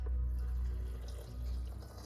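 Broth pours into a canning jar during pressure canning of chicken stroganoff, a soft continuous liquid trickle with a low gurgle, close and quiet; no talk.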